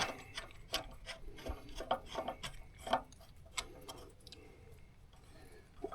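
A ratchet wrench tightens a large bolt fitted with a washer, giving a close series of sharp, uneven clicks over a quiet background with no talking.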